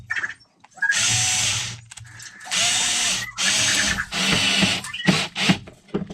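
A power screwdriver with a worn tip drives longer screws during an electronics install on a Kronos XTR RC car, whirring in four or five close, loud bursts with short pauses between.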